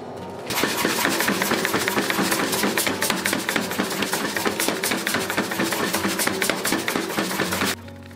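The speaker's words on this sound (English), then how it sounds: "So I'm gonna start drying out the reins on the power hammer." A blacksmith's power hammer pounds steadily while drawing out the reins of forged tongs, a rapid, loud, evenly spaced hammering that starts abruptly, runs for about seven seconds, then stops.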